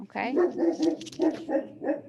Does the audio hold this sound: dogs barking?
yes